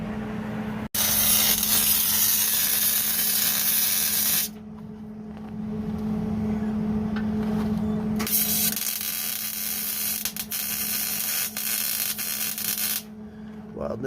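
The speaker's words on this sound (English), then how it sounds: "Weld it to the muffler." MIG-style welding of an exhaust pipe to the muffler on a Ford Bronco build, a steady crackling hiss in several long bursts separated by short pauses, close and loud with no talk.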